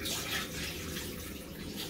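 Hot water is poured slowly and steadily into a clogged toilet bowl, making a continuous close splashing trickle at low level with no voices.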